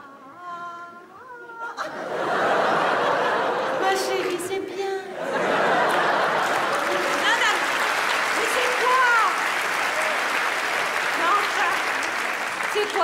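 A comedy show crowd breaks into sustained applause after someone speaks briefly in French, clapping loud and steady with scattered laughter and cheers mixed in.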